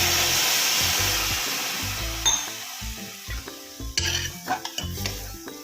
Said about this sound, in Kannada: ಇದಕ್ಕೆ ಇವಾಗ ನೀರು ಸೇರಿಸ್ತಾ ಇದ್ದೀನಿ.